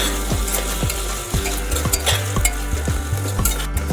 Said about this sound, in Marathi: बटाटे मसाल्यांमध्ये छान परतून घ्यायचे आहे